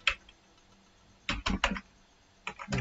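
Keys being typed on a computer keyboard nearby, a single tap, a pause, then a quick cluster of clacks and a few more keystrokes at the end, with no speech.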